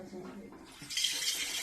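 Water poured from a vessel while cooking idli, starting as a short splash then a steady hissing flow, with voices talking faintly before it.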